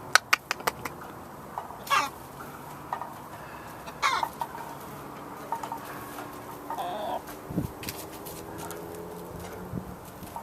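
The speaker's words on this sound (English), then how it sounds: "what are you on about, you chickens? Has one of you laid an egg?" Backyard chickens cluck softly and intermittently in the open air, scattered short calls and scratching noises against a quiet outdoor background.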